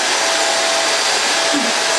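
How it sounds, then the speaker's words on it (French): A Dyson stick vacuum cleaner runs close by, a loud steady whooshing hum with a faint high whine throughout. "c'est un aspirateur balai"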